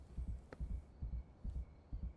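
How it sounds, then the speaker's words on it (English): Steady thumping heartbeat from the Schedule I video game, a low doubled pulse repeating at a quick, even pace with a faint hum beneath and no talking. "Oh, you can hear your heartbeat."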